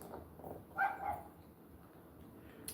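A dog barks a couple of times from a little distance, short muffled yaps over a quiet indoor hum.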